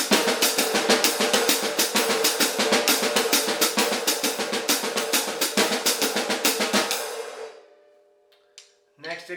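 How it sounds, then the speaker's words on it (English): Drum kit practice of a Ted Reed jazz syncopation pattern, hi-hat reading the rhythm with the snare drum filling in the missing triplets; bright, rapid close strokes flow steadily for about seven seconds, then fade out. "hi-hat reads, snare drum fills in the missing triplets"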